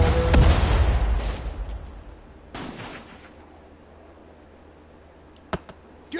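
Mortar fire in a video game: a heavy booming shot followed by further sharp blasts and distant gunfire cracks, fading into quieter battle ambience.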